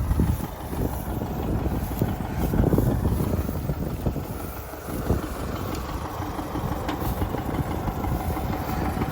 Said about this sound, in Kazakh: Өзү робот трактор бул.